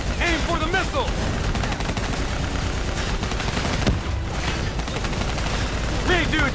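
Sustained gunfire aimed at a VTOL aircraft in Black Ops 3, dense overlapping bursts of automatic weapons firing loud and close throughout, with shouted voices breaking in at times.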